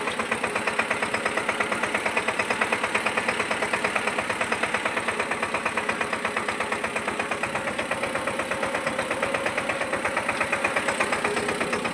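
A tractor engine chugs steadily nearby while sowing a field, with a rapid, even knocking rhythm and a constant droning hum throughout.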